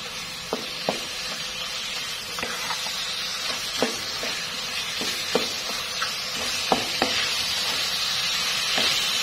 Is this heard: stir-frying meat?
yes